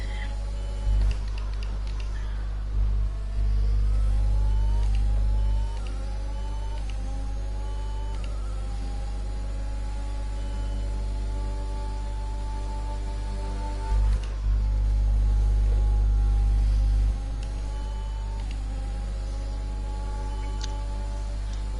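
Formula 1 cars in the F1 2021 video game drive nose to tail in a league playoff race, with engine whines rising and falling through gear changes and occasional low thumps, no voices.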